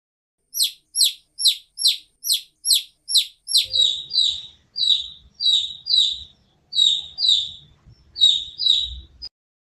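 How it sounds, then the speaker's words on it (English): A chick cheeps in a quick series of high, sharp peeps, about a dozen evenly spaced, then more paired cheeps follow over faint low background rustling. "The chick says cheep cheep."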